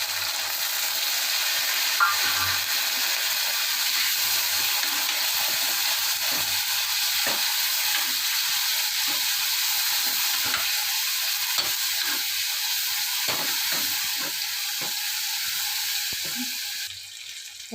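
Onions frying in a pan with oil, before tomato is added, give a steady, fairly loud sizzling hiss that runs throughout, with scattered scraping and stirring clicks over it and no talking.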